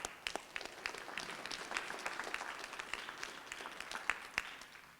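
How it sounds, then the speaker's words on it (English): An audience at a community COVID vaccination event gives county health department staff a faint round of applause, scattered individual claps over a soft continuous patter, heard from a distance. "And let's give them a round of applause."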